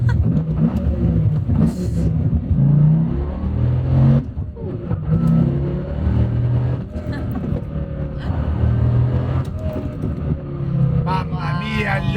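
An expensive American car's V8 engine revs hard, its deep, throaty roar rising and falling in repeated surges, loud and close throughout.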